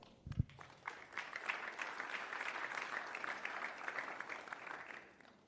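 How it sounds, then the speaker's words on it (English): Audience applause at a boxing press conference, building after a sharp opening clap into sustained clapping for several seconds, then tapering off. "Big round of applause, please, for Otha Biasanov."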